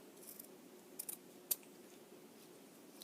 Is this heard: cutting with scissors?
yes